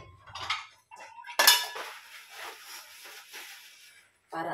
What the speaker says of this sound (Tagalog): unload ako ng aking mga pinggan dyan